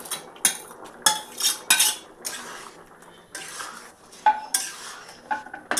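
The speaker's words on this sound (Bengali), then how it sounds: "চিংড়ি মাছগুলো এবার দিয়ে দেবো" Prawns going into a pan for a Bengali prawn pulao bring a run of loud, close clatters of utensil against metal in irregular bursts, with only a faint sizzle beneath and no talk.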